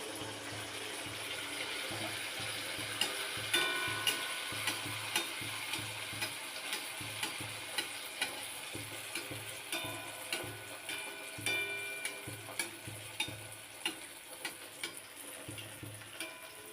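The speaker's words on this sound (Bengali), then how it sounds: "এমনিভাবে সব পিঠেগুলো আমি ভেজে নেব বন্ধুরা।" Pua pitha rice cakes fry in hot oil, giving a steady sizzle with light repeated taps and stirring clicks at a regular pace throughout, and no voices.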